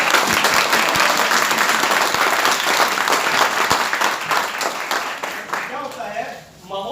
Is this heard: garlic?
no